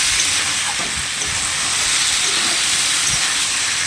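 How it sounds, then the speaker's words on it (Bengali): Onions and spices sautéing in a hot pan give a steady, loud sizzle and hiss that runs throughout without a break, with faint low clatter underneath and no talking. "আমি পেঁয়াজ মশলা দিয়ে ওটাকে একসঙ্গে কষাচ্ছি"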